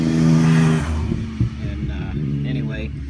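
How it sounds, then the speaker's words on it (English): A motorcycle roars past close by, loud at first and then fading away, as someone talks over it. "Here comes the idiot on the motorcycle again."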